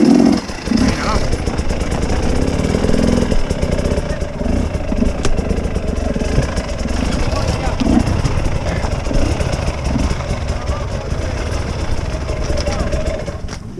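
An enduro motorcycle engine runs steadily at an extreme off-road event, a continuous close mid-pitched drone with people talking over it.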